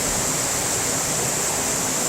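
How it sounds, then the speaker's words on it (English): The Animas River rushes past Eureka in the Colorado mountains beyond Silverton, a steady, loud, close roar of flowing water with no break. "I believe this is the Animas River."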